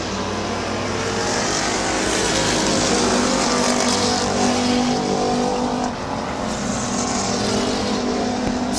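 Race cars running side by side for the lead at Midvale Speedway, a sustained loud roar of engines with shifting pitch as they power through a turn, close and continuous, with no voices.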